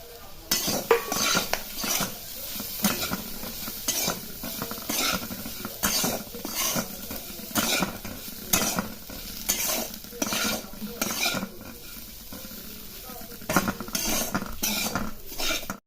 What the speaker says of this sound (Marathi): आपला जो उरलेला मसाला होता तो आणि ज्या पहिल्या तळलेल्या मिरच्या आहेत त्या आपण घालून घ्यायच्या आणि आता पूर्ण परतून घ्यायचं